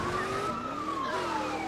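A police siren on a SWAT car in Grand Theft Auto 2, a steady wailing tone sliding slowly up and down, fairly close and continuous, heard alone without talk.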